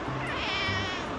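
A cat gives one drawn-out meow, close and clear, lasting about a second with a slight rise and fall in pitch. No other sound or voice is present.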